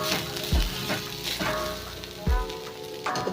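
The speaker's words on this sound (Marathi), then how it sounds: "परतून घ्यायचं," Cluster beans sautéing in a pan give a continuous close sizzle, with a few louder scraping stirs and clunks against the pan and no talking.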